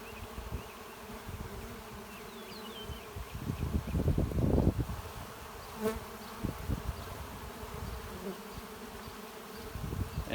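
Honey bees swarm around a beehive escape board, a close, continuous buzzing drone that swells loudest midway, with occasional individual bees zipping past and no talk.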